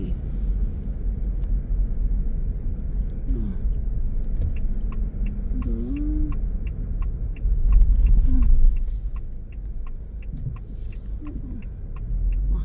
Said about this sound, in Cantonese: 呢個周圍仲好多車。